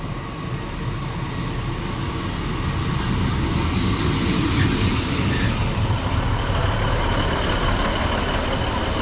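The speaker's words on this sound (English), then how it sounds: "It is coming in very fast." Passenger train unit 156406 rushes into a Lincolnshire station fast with a loud, steady roar and rumble, close by and filling the scene without pause.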